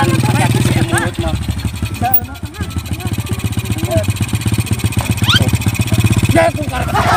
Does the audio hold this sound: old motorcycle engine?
yes